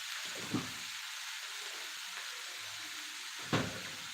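Vegetables with tomato fry in a pan over a raised gas flame, making a steady close sizzle and hiss with two brief knocks of utensil against pan, and no one speaking.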